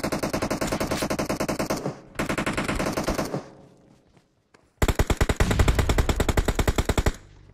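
Rapid automatic gunfire in a multiplayer shooter video game: loud sustained bursts of rattling shots, a second burst, a brief lull, then another long continuous burst, with no talk.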